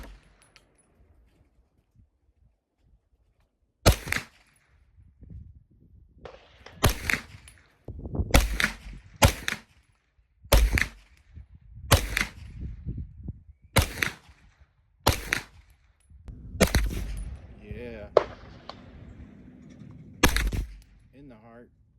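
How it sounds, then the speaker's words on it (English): An M&P Response rifle being fired outdoors, with about eleven sharp, loud shots spaced irregularly a second or two apart and quiet gaps between them. "I love this rifle. Check out some shooting here."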